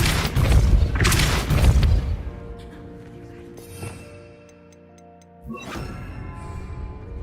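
A Depulso spell cast in Hogwarts Legacy lands with a heavy booming blast that rumbles and fades, followed by quiet magical tinkles and a second softer whooshing impact near the end.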